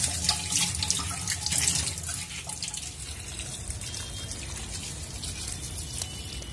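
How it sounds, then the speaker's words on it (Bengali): Tap water runs steadily into a sink while eggshells are rinsed under it, a close, continuous splashing rush with small dripping and trickling variations and no talking. "এখন আমি যে ডিমের খোসা সাথে নিয়ে যাবো, সেগুলো একটু ধুয়ে নিতে হয়"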